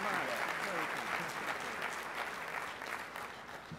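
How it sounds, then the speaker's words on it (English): An audience applauds continuously for the mayor of São Paulo, Brazil, at a mayors' climate protection luncheon, the clapping fairly even and slowly easing off toward the end. "A big round of applause for the mayor of Sao Paulo, Brazil"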